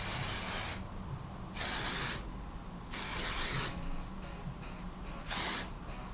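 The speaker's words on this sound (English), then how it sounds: "it's a shine spray" Four short bursts of hissing shine hairspray, each about a second long, separated by brief pauses, close and fairly quiet.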